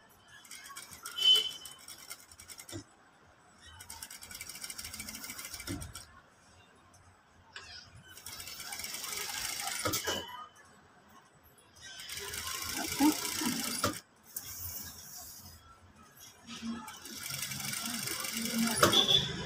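A sewing machine stitches a long gown in several bursts of steady mechanical whirring, each lasting a few seconds and separated by pauses filled with talking.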